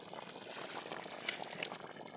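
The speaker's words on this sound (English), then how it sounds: "still it's boiling" A pot of water boils over a firewood fire outdoors, giving a faint, steady bubbling hiss with occasional small pops. It is quiet and continuous, with no voices.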